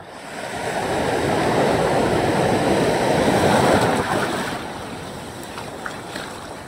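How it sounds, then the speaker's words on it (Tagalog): Large sea waves wash around a small fishing boat, a broad rushing surge of water swelling loud for several seconds, then easing to a lower churn with light splashes near the end. "Ay, lalaki na naman ng alon."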